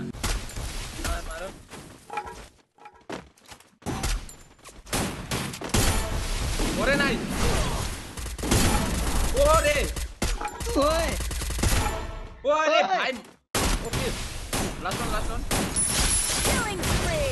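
Rapid bursts of gunfire from a shooting video game squad fight, loud and dense, with talking over and between the shots and a couple of brief gaps.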